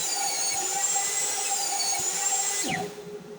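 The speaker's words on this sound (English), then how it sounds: "I'm going to be ripping a 1/4 inch off the size of the 6 body pieces" Power saw ripping a quarter inch off pine boards for a wooden gumball machine body, a steady high whine through the cut that winds down near the end, no talking.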